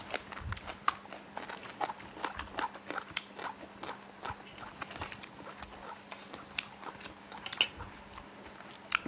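Crisp, crunchy bites of fresh homegrown garden vegetables eaten with shrimp-paste chili dip, heard up close as a steady run of short chewing crunches with no talking.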